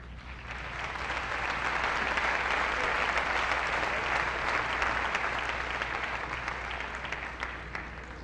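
An audience at a formal anniversary ceremony of Mexico's national human rights commission (CNDH) gives sustained, dense applause that swells quickly, holds steady for several seconds, then tapers slightly near the end.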